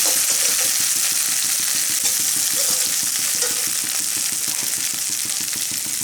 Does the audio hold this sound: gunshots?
no